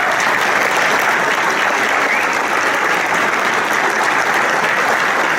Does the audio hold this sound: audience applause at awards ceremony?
yes